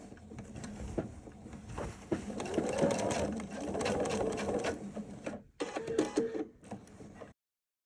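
A sewing machine top stitches the side of a handmade bag with a side gusset, running in steady bursts that rise and fall in speed, close and clear, then stops abruptly near the end.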